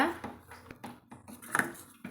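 A spoon clinks and scrapes around a metal pot of boiling curry in a few light strokes, with a voice talking over the stirring.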